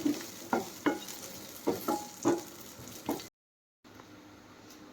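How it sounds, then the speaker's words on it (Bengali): Ingredients fry and get stirred in a pan while being lightly browned for pilau, with soft sizzling and a series of spatula scrapes roughly every half second before a short silence. "হালকা এগুলো একটু লাল লাল করে ভেজে নেবো"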